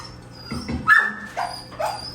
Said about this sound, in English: Why barking? Rufus.